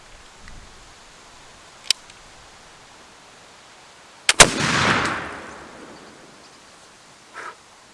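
A flintlock rifle loaded with an 80 grain powder charge fires outdoors: a faint snap of the flint and pan, then a loud report and a long, fading roar. A soft thud follows.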